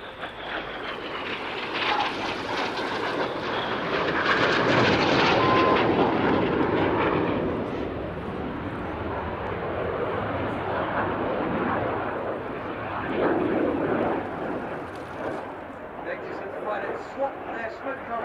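RAF Red Arrows aerobatic jets fly a display at RIAT, a loud swelling roar that builds, fades and surges again as aircraft pass, with a commentator talking over it.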